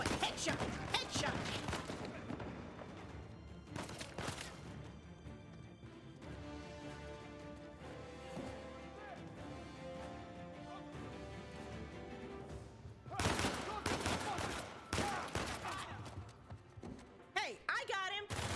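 Gunfire in the video game Uncharted 4: A Thief's End, bursts of rapid shots and impacts in clusters at the start and near the end, with a player talking excitedly over the action.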